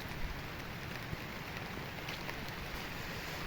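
Rain falls on farm plants in a freshly fertilized field, a soft, even, continuous patter with a faint wash of wind and no voices.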